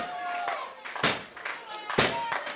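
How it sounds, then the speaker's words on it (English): At a BTW Battleground wrestling event, sharp open-hand chest chops land, about four loud smacks spaced roughly half a second to a second apart, with voices and crowd noise in between. "the crowd mostly giving Getsky the chest slaps, the chops."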